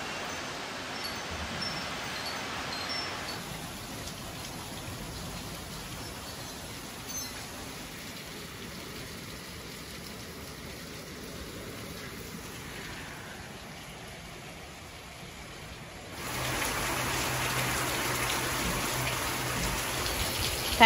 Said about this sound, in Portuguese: Tá com medo da chuva, meu amor?